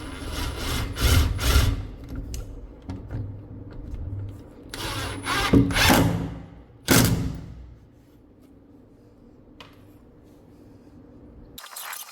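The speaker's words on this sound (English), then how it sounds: "I am attaching the tabletop to the frame using pocket holes." Pocket hole screws are driven to fix a wooden tabletop to a desk frame, giving several short bursts of whirring power driver noise with screw grinding into wood, then a long quiet stretch and a final brief burst.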